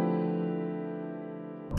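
A single sustained jazz piano chord with a clashing flat nine rings out with a tense, dissonant clash, decaying slowly before a brief noise at the end.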